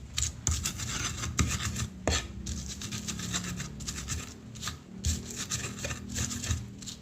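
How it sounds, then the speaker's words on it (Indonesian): Chilies are ground with a stone mortar and pestle for sayur asam Jawa, giving close, rhythmic scraping and grinding strokes with occasional sharp knocks of stone on stone. "Ini saya akan ulek cabenya dulu."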